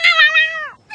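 A cat meows once in a drama CD, a single clear, close, drawn-out cry that falls in pitch at the end, followed by the start of another sound.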